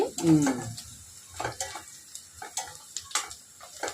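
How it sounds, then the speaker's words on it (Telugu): Onions with whole spices fry and crackle in a pan for a chicken curry, with light stirring clicks and soft sizzling pops scattered throughout, close and moderately loud. "ఉల్లిపాయ వేగుతుంది"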